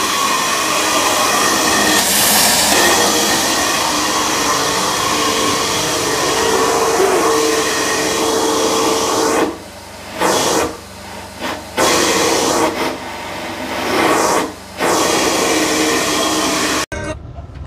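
Truck-mounted carpet cleaning machine running at 2900 RPM with 100 feet of hose, a loud steady roaring hiss that drops out briefly several times near the end.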